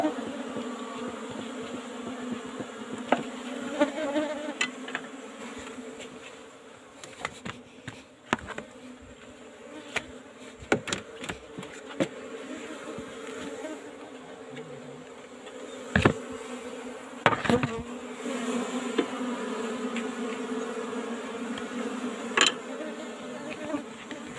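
Apis cerana honeybees buzz steadily around an old-style wooden hive box while honeycomb is cut during a honey harvest, a continuous close drone with scattered louder passes of individual bees and occasional handling knocks.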